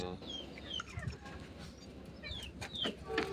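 Egyptian chickens cluck and squawk nearby in a pen, several short calls scattered over a few seconds, with people's voices and low background noise around them.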